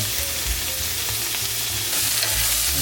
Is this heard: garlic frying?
yes